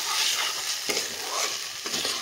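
Spice masala sizzles in oil for an eggplant curry, a steady close frying hiss with a few distinct scraping stirs of the spoon, and no voices.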